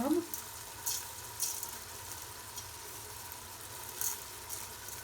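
Lentils going into a sizzling pot for harira soup make a few brief soft clattering bursts over a quiet, steady frying hiss.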